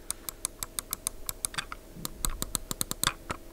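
Crisp, rapid clicks of a Patriot Viper V550 RGB gaming mouse's buttons, close up, in quick irregular bursts with a few heavier clacks mixed in; no talking.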